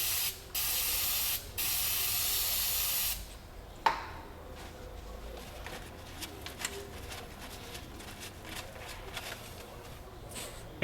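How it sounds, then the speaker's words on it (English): Aerosol brake cleaner sprayed onto the rear brake hardware of a 2002 Ford Windstar: three close, loud hissing bursts, two short and one longer, then a faint clink and quiet handling noises. "I'm going to clean it off a little bit so you can see it better. Just using some brake clean."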